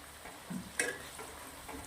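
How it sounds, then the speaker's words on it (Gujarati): Faint, quiet frying of eggplant in oil, with a brief scrape or clink of a utensil in the pan partway through. "બેગન તેલના અંદર નાખ્યા પછી આપણે સરસ મજાના આને ક્રિસ્પી થાય ત્યાર સુધી તળી લેવાના છે"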